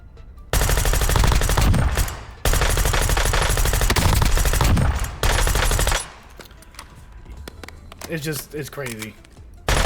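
Rapid pistol fire in Warzone comes in three long, loud, dense bursts of closely spaced shots. A short quieter stretch follows, with a voice talking.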